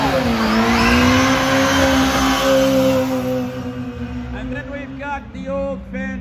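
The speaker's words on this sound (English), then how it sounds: "Here's Luca and the Hyundai Coupe. Now, this is a very low budget race series" A Hyundai Coupe race car from a low-budget race series at Motofest Coventry, its engine droning loudly and steadily, then easing off and fading as it moves away, with a voice talking over it.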